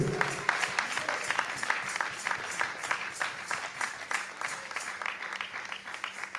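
Church congregation applauding during a Sunday service on a day of fasting, a dense, continuous patter of many hands clapping throughout, moderately loud and close, with no clear talk.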